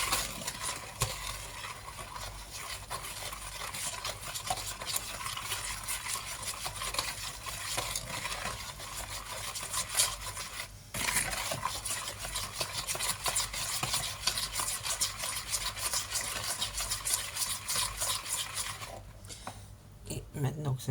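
Melted butter is stirred into eggs and brown sugar in a bowl for speculoos dough, giving a continuous close scraping and swishing under a speaking voice, with a brief pause midway.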